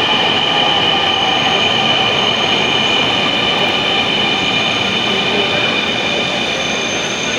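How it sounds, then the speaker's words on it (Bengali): A metro train pulls into Mirpur 10 station with a loud, steady rolling roar and a high, sustained motor whine and wheel squeal filling the platform, with no talking. "মেট্রো ট্রেনটি চলে এসেছে"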